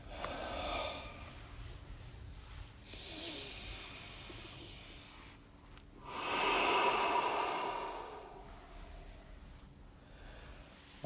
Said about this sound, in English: And I will focus on my breathing.